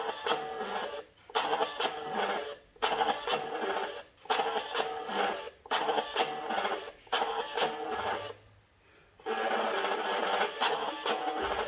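A Mitutoyo DP-1 VR data printer (model 264-504) runs in close, steady mechanical bursts, with short pauses between printed lines and one longer gap near the end.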